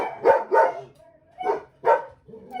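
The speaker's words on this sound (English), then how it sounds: "You can hear my dogs in the background." Several dogs bark in short bursts, about four sharp barks spaced unevenly, moderately close with no talking.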